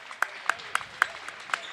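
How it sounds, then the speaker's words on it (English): Crowd applause at a varsity boys basketball game as a player leaves the court comes through as a run of sharp, evenly spaced claps, moderately close in a gym. "Hooker will get a loud applause"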